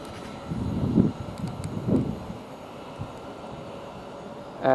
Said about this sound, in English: Now we've got the East Midlands Railway with the 12:57 from Corby to Spankers International